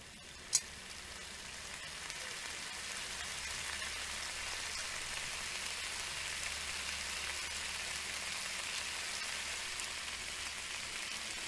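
Continuous crackling sizzle of cod frying on a hot surface in the VR game Cooking Simulator, steady and close, with a brief click near the start.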